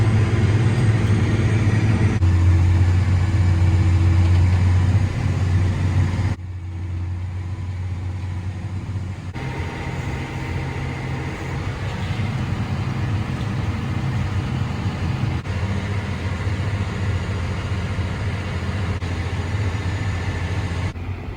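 A tractor pulls a fully loaded grain cart across a farm field, its engine giving a steady close rumble with a low droning hum that drops slightly partway through and then holds even to the end.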